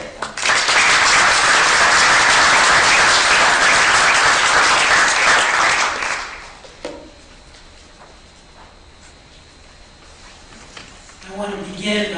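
Conference audience at eChicago 2012 applauding to welcome a speaker, loud dense clapping for about six seconds that then fades out, followed by quiet room noise and faint voices.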